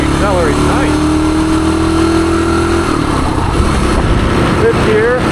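A 1978 Suzuki DR370 dirt bike revs hard and accelerates up through the gears close by, its loud engine tone climbing and then dropping at each shift. Wind noise roars throughout.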